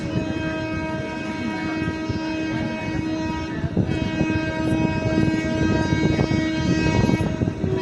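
Tejas Express train on the Chennai–Madurai line pulls in with a steady loud rumble of rail cars, a sustained horn tone running through it and rising clatter toward the end.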